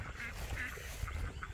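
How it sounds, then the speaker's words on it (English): Ducks quacking near the water as they come in for a feed, several short nasal calls repeating close by over outdoor background noise. "Ducks are coming to me for a feed."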